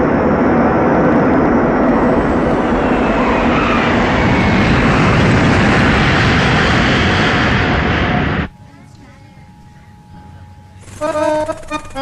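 An airliner making an emergency landing in Goa, a loud, steady, roaring rumble that fills most of the clip, then cuts off abruptly to a quieter cabin hum with faint noises.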